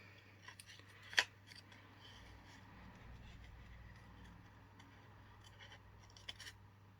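Scissors snip around a card during fussy cutting, with one sharp crisp cut standing out and a few fainter snips later against a quiet room with a low steady hum.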